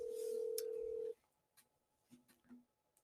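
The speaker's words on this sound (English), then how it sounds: "I just need to make a quick phone call" Telephone dialing for a quick call: a steady loud tone lasting about a second, then a few faint, scattered short blips and soft clicks in a quiet room.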